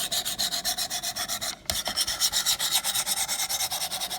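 A knife blade rasps rhythmically across a 100 grit Wicked Edge sharpening stone, quick, loud, even back-and-forth strokes close up, with one brief pause midway.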